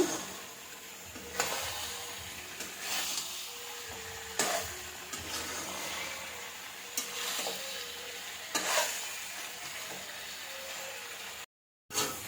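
Mutton kosha being stirred in a pan over a high gas flame, a steady close sizzle broken by scraping strokes every second or two, with no talking.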